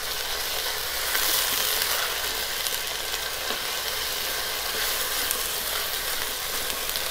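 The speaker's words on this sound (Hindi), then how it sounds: "इसे थोड़ा और भूनेंगे।" Onions frying with ginger garlic paste for chicken pulao, a loud continuous sizzle close up with faint stirring, unbroken throughout and no voices.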